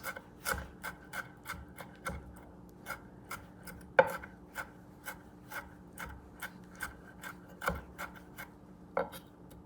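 A knife chops chimichurri vegetables into tiny pieces on a wooden board, a quiet, close series of quick taps and scrapes in an uneven rhythm with brief pauses between bursts.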